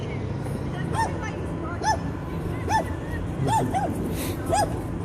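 A dog on a neighborhood walk gives a series of short high whimpers and yips at roughly even intervals, about six in all, over steady outdoor traffic noise and murmuring voices.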